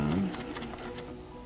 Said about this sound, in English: And this is me sewing it in